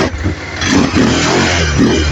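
Rouser 200 motorcycle engine, an older model, revving steadily at close range with a rough mid-range drone that rises slightly after the first second.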